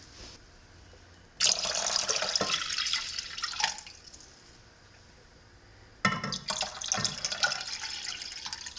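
Three pints of water pour into a pot for dill pickle brine made with white vinegar, in two loud, splashing streams of several seconds each, separated by a quieter pause with faint trickling.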